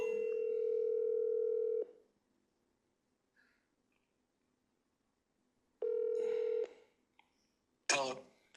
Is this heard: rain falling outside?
no